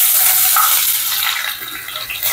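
Chopped ginger hits hot coconut oil in a kadai, giving a loud, bright sizzle that hisses continuously up close and eases slightly before flaring again at the end.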